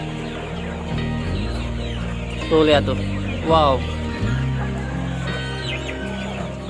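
KUB chickens, a small one squaring up to a larger bird, cluck in sharp bursts as they fight. Someone talks and exclaims over the scuffle, with barnyard noise throughout.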